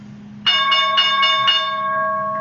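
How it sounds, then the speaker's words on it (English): A stock market opening bell rings loudly in a rapid series of about five metallic strikes, then the tone hangs and slowly fades. "And there's the bell."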